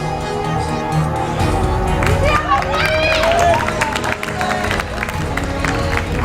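A crowd cheers and claps at a live StarCraft tournament, a loud, sustained wash of voices and applause with whoops rising over it, while casters talk over the noise.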